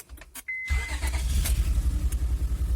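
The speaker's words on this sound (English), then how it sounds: "So presently the car is running, but obviously missing on some cylinders." A 2003 Honda Accord's swapped V6 engine cranks briefly, then catches and settles into a rough, loud idle with an uneven pulsing rhythm, misfiring on some cylinders.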